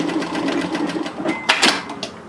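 Sewing machine stitching back and forth to back tack a zipper on a zip-up hoodie, a steady close mechanical whir with rapid needle pulses throughout.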